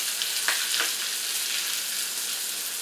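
Curry leaves and chillies crackle and sizzle loudly in hot oil for a tadka with a couple of sharp pops early on, then a steady hiss.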